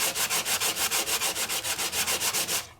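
A handheld sanding gadget rubbing across embossed film over alcohol ink, a fast steady series of about sixteen scratchy strokes, close and continuous with no talk.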